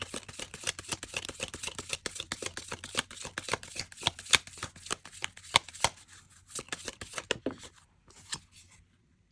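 Tarot cards riffled and shuffled in a quick run of crisp, papery flutters and snaps, close and fairly quiet, tapering into a few separate slaps as cards are drawn and laid down, with no talking.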